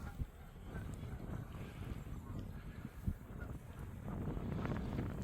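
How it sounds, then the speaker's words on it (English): Steady wind buffets the microphone with a rough, rushing roar over choppy water, gusting louder toward the end, with faint water and movement beneath. "it's got quite choppy and quite windy now"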